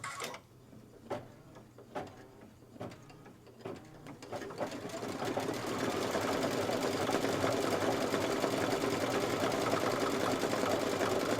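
An embroidery sewing machine stitching a chicken quilt design starts after a few soft clicks and then runs in a steady, continuous close hum with rapid needle chatter until the end.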